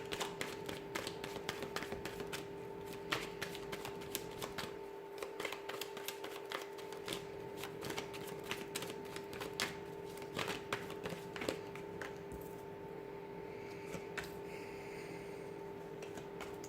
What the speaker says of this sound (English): I'm going to give the cards a shuffle here